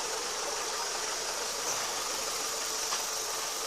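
Renault Megane 2 engine knocking after a clutch replacement, a steady close mechanical idle with broadband noise and faint tapping, running alone without talk.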